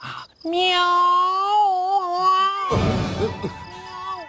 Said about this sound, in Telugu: ఎదో పిల్లి సచ్చినది దీని.